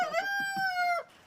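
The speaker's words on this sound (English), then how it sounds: "Chickens and goats and plenty of space to roam around in the fresh air." A single rooster crow rings out, clear and fairly close, lasting about a second before quiet returns.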